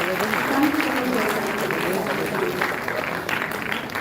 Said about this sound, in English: Can we have a big round of applause for all the students?